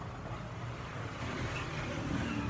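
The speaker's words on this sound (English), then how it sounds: "I'm a bit closer to the road here, so there is motor car noise." Motor car traffic from a nearby road forms a steady, continuous low rumble and hiss with no distinct events, fairly loud and unbroken throughout.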